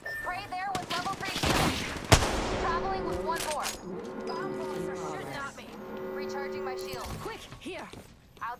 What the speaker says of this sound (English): Bomb bullets are shooting at me